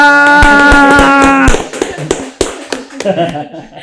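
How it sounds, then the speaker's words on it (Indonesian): Rhythmic hand claps sound close and sharp over a sustained tonal voice or music at the start, then continue more loosely as people talk. "Tepuk tangan buat Freshtopian"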